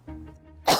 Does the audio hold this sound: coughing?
yes